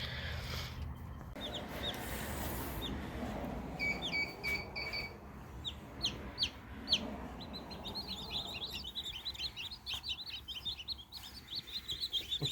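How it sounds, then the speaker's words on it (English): Newly hatched baby chicks peep in a homestead brooder, giving high, repeated chirps that turn dense and continuous after the first few seconds, over low background rumble and handling noise. "Little baby chicks."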